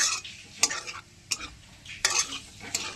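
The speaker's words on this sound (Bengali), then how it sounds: "জিরে আর শুকনো লঙ্কা ফোড়ন এর মধ্যে দিয়ে দিচ্ছি।" Black cumin and dried red chillies sizzling in hot oil as a tempering, with sharp stirring scrapes recurring every half second or so over a light sizzle, close by.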